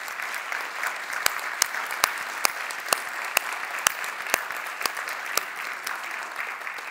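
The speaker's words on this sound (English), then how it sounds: "Why are you applauding?" An audience at a live conversation event applauds steadily, a dense patter of many hands with a few sharper, closer claps standing out, continuing for several seconds.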